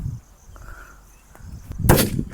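A Diwali firecracker goes off with a single loud burst near the end of the clip after a quiet stretch with faint hiss and a couple of small ticks, leaving a short crackling decay.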